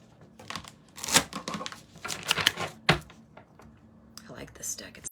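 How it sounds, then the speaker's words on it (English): Quick papery riffles and snaps come in several bursts, a deck of tarot or oracle cards being shuffled up close, with soft speech faintly in the background. "I like this deck. It's easy to shuffle."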